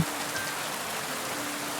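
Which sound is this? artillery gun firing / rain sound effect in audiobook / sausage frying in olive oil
rain sound effect in audiobook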